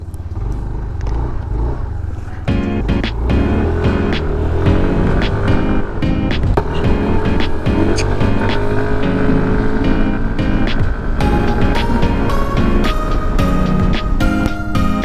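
A Yamaha NMAX V2 scooter fitted with a JVT V3 adjustable exhaust pipe. The engine roars loud and close, with a throaty, pulsing exhaust note and repeated revs, with no talking.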